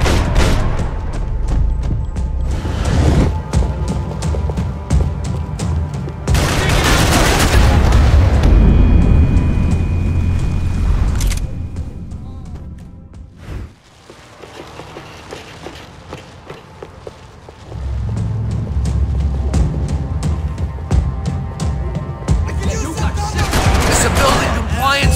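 Gunfire in the shooter game Max Payne 3, loud bursts of shots and booms in clusters, a quieter lull in the middle, then more sustained firing and rumble toward the end.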